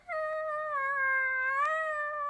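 A person's voice imitates a cat, drawing out a single long, steady meow that rises slightly near the end, clear and close with no other sound.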